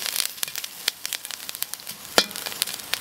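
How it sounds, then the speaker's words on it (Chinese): Chili peppers stir-fried in a wok until blistered, giving a steady crackling sizzle broken by sharp, irregular scrapes and clatters of the spatula, close and fairly loud, with no talking. "这个稍微炒了有点起虎皮了，来再炒一下就可以切盛出来"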